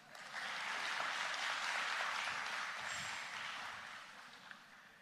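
An audience in the Carl Hendrickson Auditorium at Jamaica College, during a Prime Minister's town hall meeting on education, claps in a steady wash of applause that swells, holds for several seconds, then tapers off, with no speech over it.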